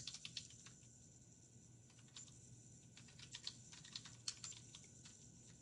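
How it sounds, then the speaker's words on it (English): Quiet, steady typing on a computer keyboard, a rapid run of light key clicks with brief pauses, close and alone in a hushed room. "So I'm just going to type the title here."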